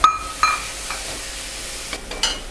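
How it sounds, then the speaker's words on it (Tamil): Banana flower being stirred and tossed with spice powder in a hot pan for a Tamil gravy, giving a few short scraping strokes and a faint sizzle, close and quiet, with no talking. "இந்த பொடியை போட்டு பெரட்டிட்டு இந்த வாழைப்பூவை போட்டுக்கலாம்."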